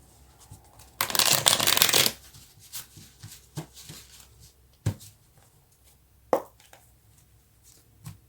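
Tarot cards are shuffled in a dense one-second riffle, followed by scattered soft taps, slaps and card flicks in a quiet room.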